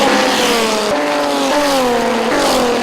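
Old race cars such as Pumas lapping Interlagos circuit in São Paulo during a classic-car practice session, loud engines revving and shifting up with rising whine, several upshifts in quick succession.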